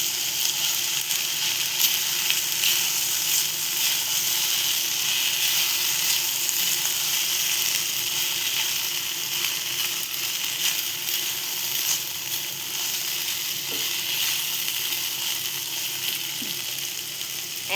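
Sweet corn and vegetable pasta sizzles and fries steadily in a pan as it is stirred together, a dense, continuous hiss close up with faint scraping and no voices.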